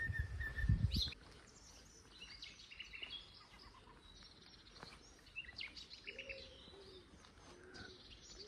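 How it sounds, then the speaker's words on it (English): A song thrush sings outdoors among vegetation on the Isle of Wight, its repeated phrases faint and distant under steady ambient hiss, after a brief loud thump at the start. "Very loud song thrush."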